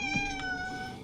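A cat in a video game lets out a single drawn-out meow, loud and close, with a clear tonal wail that fades over about a second.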